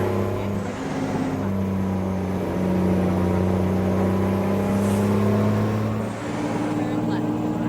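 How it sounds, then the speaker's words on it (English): A steady, droning truck engine hum in American Truck Simulator with low tonal bands holds throughout, rising slightly in pitch midway, continuous and close. "this truck is a little noisy"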